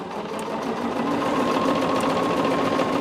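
A Bernina sewing machine fitted with foot 37D stitches fabric in a fast, steady mechanical whir, close and continuous with no talking.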